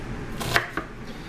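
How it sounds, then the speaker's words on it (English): A knife dices an onion on a board, two or three crisp close chops in quick succession with quiet gaps and no speech. "we are going to be preparing onion cubed, or chopped, diced"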